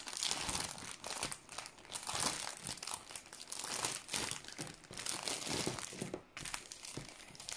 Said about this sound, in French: Tout est bien regroupé dans une petite pochette plastique. Un petit sac. On va ouvrir ça.